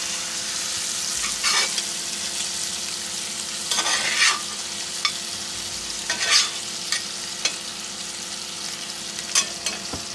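Food sizzles and fries steadily in a skillet on a camp stove at a primitive campsite, with occasional scraping stirs and crackles rising above the constant hiss.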